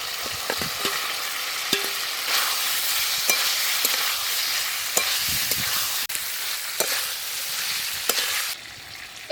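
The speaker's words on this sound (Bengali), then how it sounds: "মশলার সঙ্গে আলু খুব ভালো করে কষে নিয়েছি।" Potatoes and spices sizzle loudly as they are stirred and fried in a pan for an aloo dum, with steady broadband frying hiss and repeated scraping strokes throughout, and no talking.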